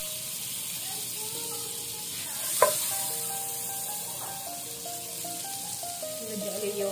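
Butter sizzling in a pan as the first step of cooking tuna carbonara, a steady close frying hiss with one brief louder crackle near the middle, no talking over it.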